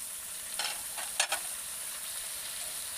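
Chicken and vegetables with turmeric sizzle softly in a pan while a utensil stirs, giving a few brief scraping strokes over a steady frying hiss.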